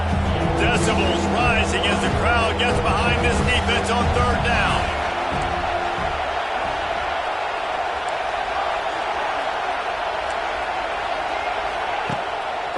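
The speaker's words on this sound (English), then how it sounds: "Decibels rising as the crowd gets behind this defense on 3rd down." A college football stadium crowd roars on third down during an NCAA game against USC, a loud sustained wall of cheering that swells under commentary at first and carries on steadily alone.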